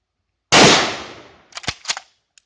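A US Model 1917 rifle in .30-06 fires a single loud, close shot into a Swiss M1918 steel helmet at about 18 yards, with a sharp blast and long decaying ring, then a few scattered clanks and rattles afterward.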